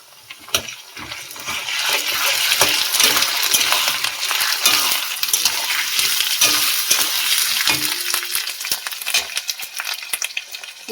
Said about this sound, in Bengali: আলুটা ভালো করে ভেজে নিয়েছি, এবার ওতে পেঁয়াজ বাটাটা দিয়ে দেবো।